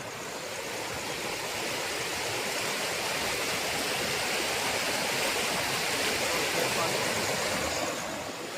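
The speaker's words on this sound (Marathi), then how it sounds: "हे इतकं पाणी वाहतंय," Flooded river water after heavy rain rushes past close by, a dense, continuous roar of fast-moving water that stays loud and steady, swelling slightly toward the middle.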